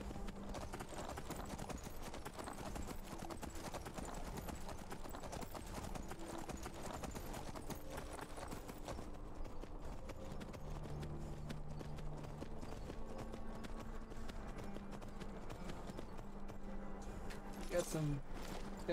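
Horse hooves in the video game Skyrim, a steady rapid clip-clop of riding along a road, continuous and fairly close under someone talking.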